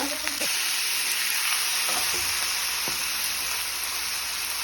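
Spinach, fenugreek, coriander and mint leaves fry in a chicken gravy, giving a steady, close hiss of sizzling with a few soft stirring knocks along the way.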